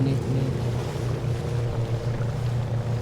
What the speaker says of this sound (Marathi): हे बघा, अरे बापरे, पूर्ण पाण्यात गेली होती गाडी.